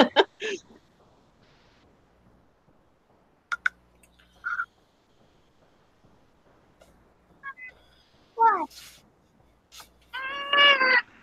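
A pet cat meows several times indoors, short scattered mews spaced apart and rising in the final seconds, close and fairly loud, with quiet room sound between calls.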